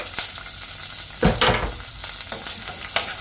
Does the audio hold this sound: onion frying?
yes